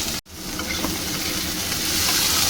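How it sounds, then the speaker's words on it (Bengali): Ingredients for vegetarian chilli paneer frying in oil on high flame, a dense steady sizzle that briefly cuts out near the start then continues loud and close, growing slightly stronger. "একটু হাই ফ্লেমেই এটা একটু ভাজবো"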